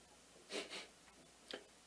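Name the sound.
storyteller imitating a giant sniffing the air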